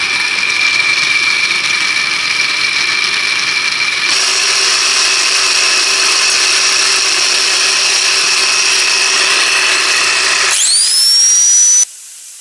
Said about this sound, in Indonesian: Oke, akan kita gerinda.